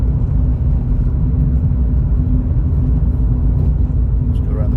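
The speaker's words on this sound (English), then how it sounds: "You have to accelerate to go up the hill" A car accelerates up a steep hill on a UK road, a loud, steady engine rumble and road roar that holds constant throughout, close and continuous.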